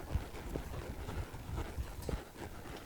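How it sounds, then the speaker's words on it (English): A horse loping under a rider makes a faint, rhythmic three-beat thud of hooves on soft ground, muffled and distant under light wind noise on the microphone. "We'll ease on up to a lope here."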